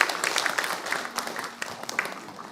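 Church congregation applauding together during a Sunday service blessing for a child and parents, a dense steady wash of many hands clapping for a couple of seconds, moderately loud and fairly close.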